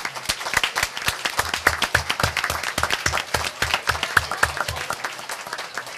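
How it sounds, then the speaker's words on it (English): An audience gives parents of students in an academic competition a round of applause at a board awards event, steady hand clapping filling the room throughout. "all you parents, stand up so we can give you a round of applause"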